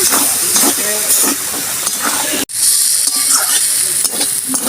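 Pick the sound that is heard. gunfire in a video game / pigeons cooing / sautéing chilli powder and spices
sautéing chilli powder and spices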